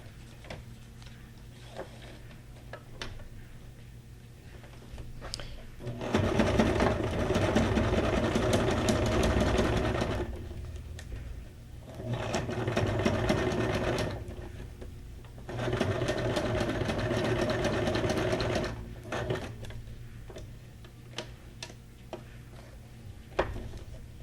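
A sewing machine stitches paper ephemera for a junk journal in several loud, rapid, whirring bursts of a few seconds each, with quiet gaps between runs.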